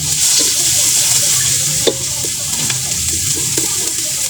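Tagilaw with garlic and chili sautéed in clean oil in a pan, a steady close sizzle with occasional stirring scrapes and a sharp clink, no talking.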